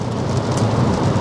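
Steady rain falls outdoors in a dense, loud hiss of drops hitting surfaces, with a low rumble underneath and no voices.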